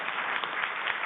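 Brief, steady applause from an audience at a celebration afternoon event, honoring a panelist from the NCVS Innovation Panel, heard as a dense, even wash of clapping.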